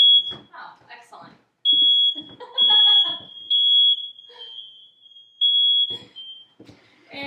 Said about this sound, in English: And there's my smoke alarm, so sorry.